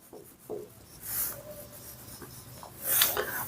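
A pen scratches across paper as numbers and values for a school math problem are written out, with short strokes and brief pauses in a quiet room, heard up close and faint.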